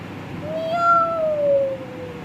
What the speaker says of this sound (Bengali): জানলার বাইরে থেকে মিয়াও মিয়াও করছে